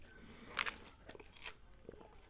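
Close, quiet crunching bites into a Wienerschnitzel corn dog with a crisp batter coating, a few sharp crunches followed by soft chewing, no talking.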